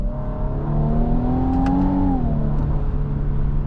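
A 2026 Nissan Armada NISMO SUV's twin-turbo V6, paired with a nine-speed gearbox, drones and climbs steadily in pitch as it accelerates while held in gear, heard from inside the cabin, then eases off near the end.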